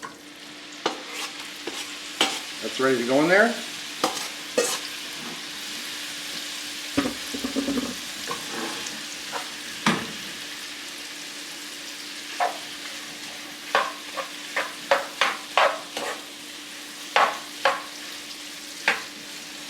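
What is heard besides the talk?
chicken with wing sauce and honey sizzling in pan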